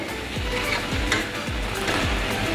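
Thick tomato jam bubbles over a steady sizzling hiss as lemon juice is added, with soft stirring and repeated low thuds from bubbles bursting about every half second.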